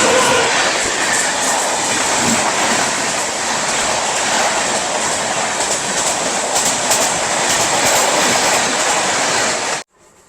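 A Garib Rath Express train running at speed between Bhopal and Jhansi, heard from on board as a loud, continuous rumble with rhythmic rail clatter that cuts off abruptly at the end.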